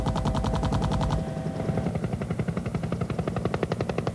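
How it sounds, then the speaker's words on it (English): Huey helicopter gunships lay down suppressing fire over a jungle landing zone: a loud, sustained burst of rapid automatic fire, then a steady pulsing rhythm of shots over the heavy drone of rotors and engines. "Approaching a landing zone, the gunships moved out front to lay down suppressing fire."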